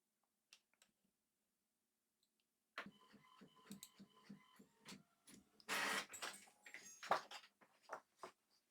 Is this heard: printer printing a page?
yes